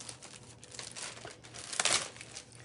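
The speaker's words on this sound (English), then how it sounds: "I'll open this one and take it out and show you" A plastic stamp mask is unwrapped from its package, making close, continuous crinkling of thin plastic that swells into a louder burst of crackling near the end, no voices.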